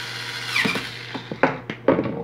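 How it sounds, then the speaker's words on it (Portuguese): Screws are driven in with a small power tool while fitting a thermal fuse, giving a brief whine followed by several short, close, sharp bursts of fastening. "Vamos colocar agora os parafusos."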